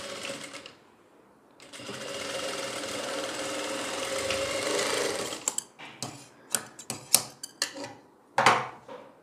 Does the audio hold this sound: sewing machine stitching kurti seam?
yes